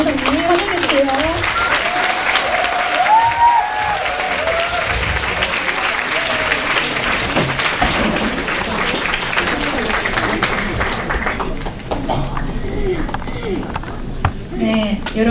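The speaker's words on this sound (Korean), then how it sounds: "이 시간 큰 박수로 우리 임기타 전도사님 환영해 주세요." Loud, sustained applause from a large church congregation fills the whole stretch, dense and steady, with voices and cheers mixed underneath.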